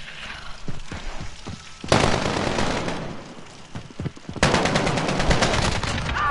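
Bursts of AK rifle fire from a Call of Duty match, with a couple of light shots early on, then two loud sustained volleys of rapid automatic fire, close and alone with no talk over them.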